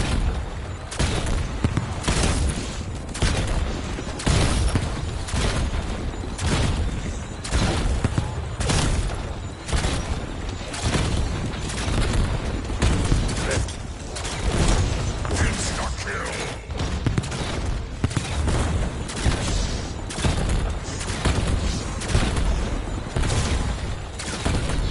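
Call of Duty Black Ops 4 zombies match with a bow weapon: loud, dense, continuous gunfire and repeated explosion booms in a rapid, steady rhythm, with no pauses throughout.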